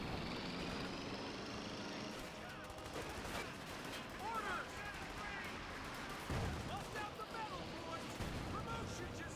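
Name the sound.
Thompson submachine gun firing, video game Company of Heroes 2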